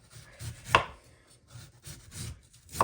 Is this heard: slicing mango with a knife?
yes